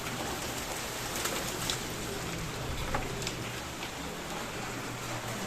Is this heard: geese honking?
no